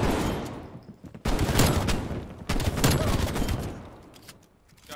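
Bursts of rapid shotgun fire from the Bullfrog shotgun in a first-person shooter game, two dense volleys of loud, close shots separated by brief pauses, with the firing tapering off toward the end.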